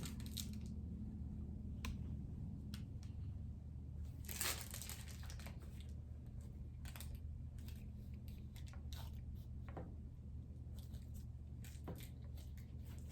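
Plastic treat bag crinkles and crackles as it is tugged open, a steady run of scattered rustles and sharp crinkly bursts, busiest in the middle, over a constant low background hum.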